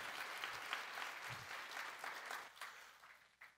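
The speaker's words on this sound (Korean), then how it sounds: "박수 한번 쳐" A church congregation claps together during a sermon, a steady wash of many hands that stays fairly even for a few seconds and then thins out toward the end. The sound is soft and slightly distant, with no voices over it.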